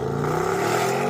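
Lamborghini Urus under launch control with the throttle floored, a loud steady engine roar rising slightly in a brief burst, no talking.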